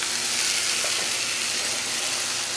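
Meat frying in a pan while being stirred, a steady bright sizzle with soft scraping underneath, close and continuous, with no talk.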